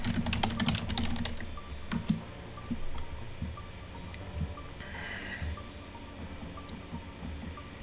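Typing on a computer keyboard while searching for digital papers in Canva, bursts of quick close clicks at first that thin out into scattered, lighter taps.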